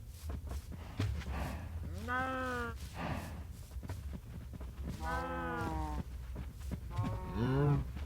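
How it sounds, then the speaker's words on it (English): Highland cows in a farming video game give three long, drawn-out moos at fairly even intervals over a constant low hum, with faint footstep clicks in between. "Alright, Highland cows. I want more of you."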